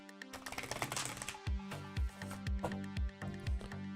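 A tarot card deck being shuffled, a busy riffle of card edges in the first second and a half, then a steady series of close, distinct taps and slaps as the cards are bridged and squared, with no talking.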